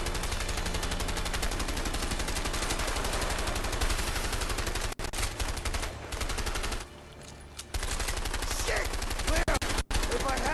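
Gunfire in the co-op game A Way Out, loud dense bursts of rapid automatic shots with brief pauses and a few gaps where the firing drops out, a voice occasionally heard beneath.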